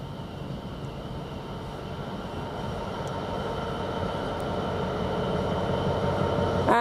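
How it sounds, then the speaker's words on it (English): A non-stopping train rumbles through Witham railway station platform 1, a steady broad roar that grows slightly louder as it passes, with no voices. "The train now approaching platform 1 does not stop here."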